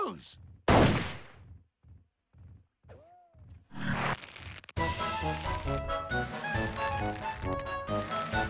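Gunfire in the Hogs of War video game: a few loud blasts separated by short quiet gaps, then dense game music and effects take over, with a voice heard briefly.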